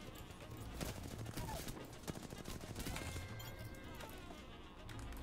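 Rapid gunfire from dual Mozambique shotguns in the video game Apex Legends, as dense, continuous bursts of shots layered over game sound, with faint voice chat underneath.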